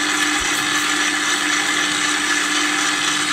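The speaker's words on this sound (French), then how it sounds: "et je mets en route le batteur" Electric hand mixer beating eggs and sugar in a bowl, a loud steady motor whine with a constant hum, running without pause and with no voices.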